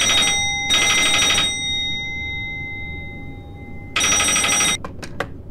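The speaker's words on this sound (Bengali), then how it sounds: "সেই সময় ফোনটা বেজে উঠল।" A telephone rings in a Bengali detective audio story, with several loud bursts of electronic trilling separated by a pause, then a few sharp clicks as the receiver is picked up.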